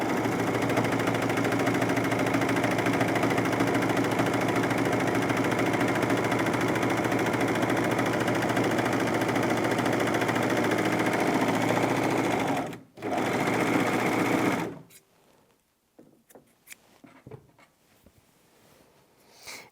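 A Bernette Funlock b44 overlocker runs steadily and loudly as it sews fabric, with a brief pause near thirteen seconds before it stops at about fifteen seconds, leaving faint handling sounds.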